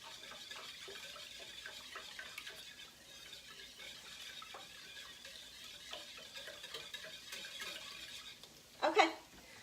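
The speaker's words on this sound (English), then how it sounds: "let's go ahead and just whisk together this sauce here" A sauce for a hamburger casserole being whisked in a bowl, a faint continuous light clicking and swishing, ending in a brief louder clatter near the close.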